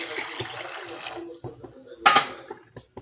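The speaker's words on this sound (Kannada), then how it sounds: "ಈಗ ತರಕಾರಿ ಬೇಯೋದಕ್ಕೆ ನೀರು" Water is poured into a cooking pot with vegetables for a horse gram sambar, heard as a short splashy gush after a few seconds of quieter liquid sounds and clatter.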